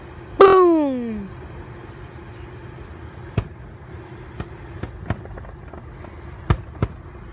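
Fireworks on the Fourth of July: one loud whistling burst near the start, then a scattered run of sharp pops and cracks at varying distances over a steady background hum.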